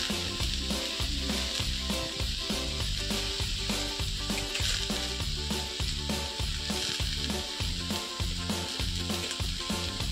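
Pumpkin pieces frying with whole spices in a pan, a dense continuous sizzle with rhythmic scraping and stirring strokes throughout, close and loud.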